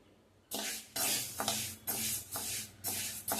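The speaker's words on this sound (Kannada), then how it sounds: "ಘಮ ಬರೋವರೆಗೂ ಚೆನ್ನಾಗಿ ಸಣ್ಣುರಿಯಲ್ಲಿ ಹುರ್ಕೋಬೇಕು ಹೆಸರುಬೇಳೆನ" Moong dal roasting in a pan over a low flame, giving a dry rustling sizzle in about five distinct stirring bursts separated by short pauses, close and steady with no talking.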